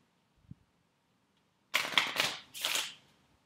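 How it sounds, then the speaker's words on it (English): A deck of game cards riffle-shuffled up close in three quick bursts of crisp flutter, alone after a faint tap, with no talk. "Shuffle the encounter deck."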